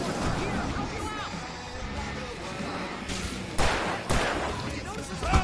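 Fireworks bursting in the video game Alan Wake, a dense barrage of loud pops and crackles with several sharp booms standing out near the end, all over a busy layer of game noise and speech babble.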